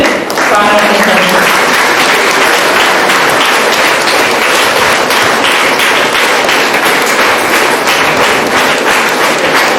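An audience applauds to honour a college principal at a felicitation and building opening at St. Joseph Arts and Science College, Singampunari: loud, sustained clapping fills the hall alongside some talk.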